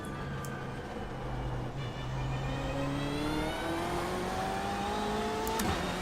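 A BMW M8 race car in the iRacing sim revs up through its gears. Engine tones climb steadily, drop at each shift and climb again. The sound is moderately loud with a continuous whine and no talk.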